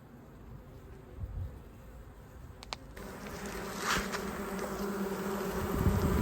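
Honey bees swarming around a house roof buzz continuously, a dense droning hum with individual bees passing close and the swarm growing louder toward the end.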